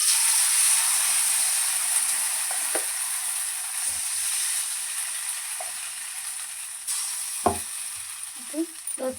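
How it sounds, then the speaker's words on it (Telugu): Dosa batter for uttapam sizzling in a hot kadai, a bright steady hiss that slowly softens, with occasional clinks and scrapes of a utensil near the end. "దోసపిండి వేసుకున్నాం."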